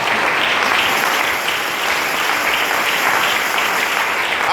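A church congregation breaks into loud, sustained applause to acclaim the Lord, dense clapping from many hands filling the room at a steady level throughout.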